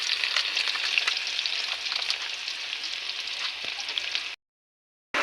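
Garlic frying in hot cooking oil for salted peanuts gives a steady, close, crackling sizzle that runs alone for about four seconds, cuts out briefly, then resumes.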